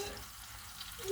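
Hamburger patties frying in a pan for homemade burgers, a soft steady sizzle at low level with no talk.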